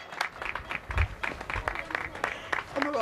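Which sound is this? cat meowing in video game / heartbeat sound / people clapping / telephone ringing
people clapping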